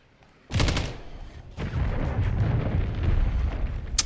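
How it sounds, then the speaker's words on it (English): A sudden loud blast from a cruise missile strike in the video game Call of Duty Modern Warfare, followed a second later by a second rumbling explosion that rolls on steadily until the end. "Hostile cruise missile incoming."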